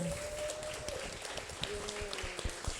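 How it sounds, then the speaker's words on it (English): Conference audience applauding two panelists after a talk on regional cooperative ecosystems, moderate clapping with a few distinct close claps and a sustained tone beneath. "We give them a round of applause"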